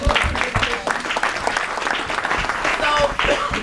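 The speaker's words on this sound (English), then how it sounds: "So you give yourself a round of applause for that." Applause from a seated audience at a panel discussion, dense and steady clapping from many hands that fills the room for several seconds at close range.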